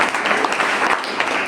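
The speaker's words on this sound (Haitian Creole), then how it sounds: "on va applaudi quelqu'un." Brief burst of audience clapping at a holiday celebration, many hands applauding together in a continuous, fairly loud patter.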